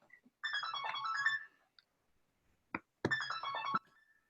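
Phone ringtone playing a melodic electronic tune in two bursts, close and fairly loud, with a short gap and a brief click between them, in a quiet lecture room.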